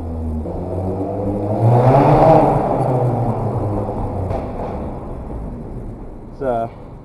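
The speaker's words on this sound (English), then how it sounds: "You can hear those pops." Mini Cooper revving in a garage with exhaust pops, a sustained engine drone that swells mid-clip with a brief sharp burst near the end, while a person talks over it.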